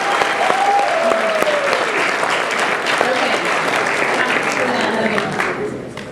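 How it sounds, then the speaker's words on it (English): Audience applause at a Southern California state day event for John Burroughs High School, loud continuous clapping from a large crowd with scattered whoops, tapering slightly at the end. "Let's give John Burroughs a round of applause."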